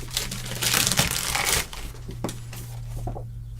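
Kitchen scissors snip and tear through crinkly plastic cake packaging at close range, a busy rustling burst that quiets after a couple of seconds, followed by a few softer crinkles.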